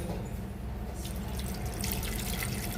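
Water pours steadily into a cooking pot in a home kitchen, a continuous splashing rush that briefly brightens toward the end, with no voices.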